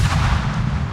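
Warship cannons boom in the video game World of Warships, a loud, close, rumbling heavy blast that fills the short moment with no talk.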